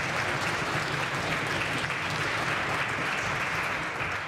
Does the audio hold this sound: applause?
yes